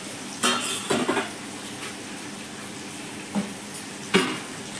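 Ground cumin, coriander and chili powder stir-fried with potatoes in a pan for a Bengali air fish curry, giving a few short scraping clatters of the spoon against the pan over a faint steady sizzle, with no talk.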